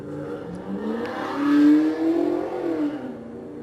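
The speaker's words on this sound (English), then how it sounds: "I swear that motorcycle gets me every time" A motorcycle engine revs, its drone climbing and swelling to a peak midway, then easing off, steady and fairly close for a few seconds with no voices.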